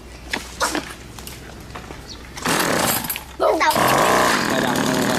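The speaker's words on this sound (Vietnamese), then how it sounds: "Khởi động cách dập như là máy cắt cỏ bình thường" A homemade lawn mower built around a scooter motor is pull-started, with light knocks and brief bursts before the engine catches twice into a loud, close, rough running roar; a voice speaks over the early part.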